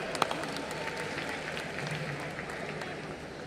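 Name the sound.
audience applause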